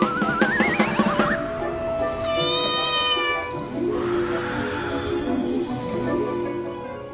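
A cat meows loudly and close by, giving a few drawn-out, wavering cries with short gaps between them and no talking.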